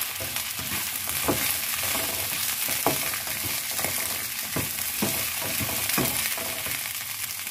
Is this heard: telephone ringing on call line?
no